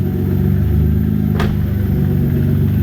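A turbocharged Hyundai Tiburon engine idles and revs steadily, with one sharp exhaust pop cracking through near the middle.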